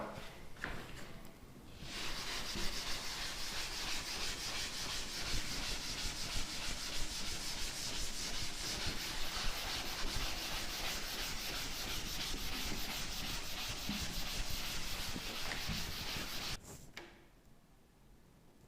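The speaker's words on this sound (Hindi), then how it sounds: "चलो, तो अब मैं रब कर रहा हूं।" Writing board being rubbed clean with steady, scratchy back-and-forth erasing strokes for about fifteen seconds, close and fairly soft, ending abruptly into near silence.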